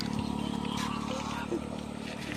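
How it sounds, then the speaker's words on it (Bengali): A motorcycle roars past fast and close, its engine drone steady and loud throughout, with some clatter and a voice talking over it. "ওই জোরে মোটর সাইকেল আসছে"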